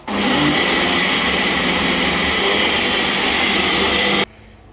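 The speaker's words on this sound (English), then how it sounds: "So now we're going to blend it on low for 30 seconds." Blender running on low speed to mix fruit muffin batter, a loud, steady whirring drone lasting about four seconds before cutting off abruptly.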